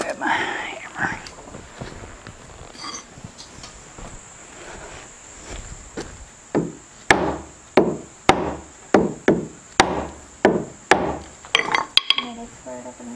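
A run of sharp hammer blows on wood framing, about a dozen evenly spaced strikes, close and loud, after a quieter stretch of faint rustling and soft sounds.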